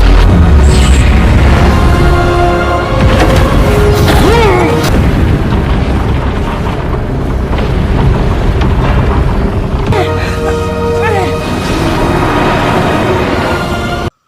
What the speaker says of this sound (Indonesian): berhasil menghancurkan Swarm dengan menggunakan bom di pesawatnya